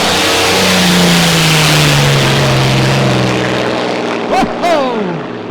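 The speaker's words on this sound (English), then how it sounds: "The boat that so many of us grew up with, Sam, and many more like it." A loud, throaty unlimited hydroplane race boat engine roars close by during a race, holding a deep steady pitch, then briefly cuts and rises again with sharp revving sweeps.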